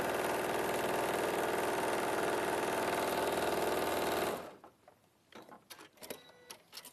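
A sewing machine stitching at a fast, even mechanical rhythm for about four seconds, then stopping abruptly, followed by faint handling clicks and small movements.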